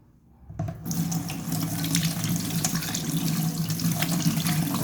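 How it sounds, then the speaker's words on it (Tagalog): Corned beef is rinsed under a kitchen tap: after a quiet moment the water comes on and runs as a loud, continuous splashing rush that stays steady to the end. "So hugasan natin."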